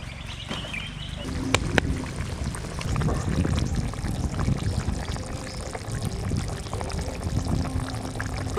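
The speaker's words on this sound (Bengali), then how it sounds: "এখন জল দিয়ে দেবো।" Water pours into a pan of spiced white cauliflower curry, a steady close splash that settles into a bubbling simmer, with a few clinks near the start.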